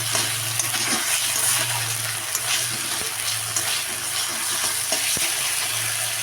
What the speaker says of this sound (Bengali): রান্না চলছে, কারণ আদা রসুন পেঁয়াজ দিয়ে এটা কষানো হচ্ছে